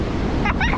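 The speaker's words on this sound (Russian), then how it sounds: "Конечно, волны." Sea waves on the Odessa shore wash and hiss in a continuous, loud, broadband surge, heard close and alone for under a second.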